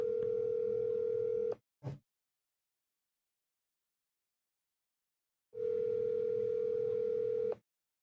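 Telephone dial tone heard while calling a cell phone: a steady tone about a second and a half long, a short blip, several seconds of silence, then the tone returns for about two seconds, loud and alone with no talking.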